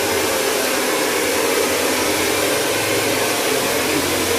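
Loud, close blowing from an electric hair dryer in a salon, an unbroken airy roar lasting a few seconds with no speech over it.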